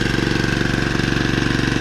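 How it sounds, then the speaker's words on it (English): A small engine, likely on an estate-sale rototiller or snowblower, idles smoothly with a loud, close, even rapid chugging pulse throughout and no talking. "It's really a sweet running engine."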